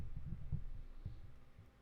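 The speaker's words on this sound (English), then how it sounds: "Why do you hear a heartbeat?" Soft, low thumps pulse in a loose, irregular rhythm like a muffled heartbeat, faint and dull with no voices.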